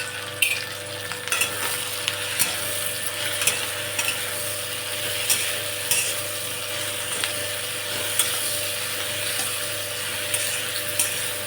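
Okra (bhindi) sprinkled with salt cooks in a pan, a soft continuous sizzle broken by repeated clicks and scrapes of stirring at a moderate distance.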